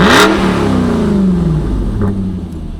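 A BMW 440i with a stage 1 tune and open exhaust revs hard with a sharp blip, then its loud engine note slowly drops back toward idle, close and alone.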